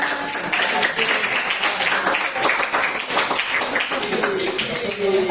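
A classroom group applauds together in a sustained burst of dense clapping that stays even and lively throughout, with a few voices mixed in.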